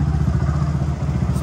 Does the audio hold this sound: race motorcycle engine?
yes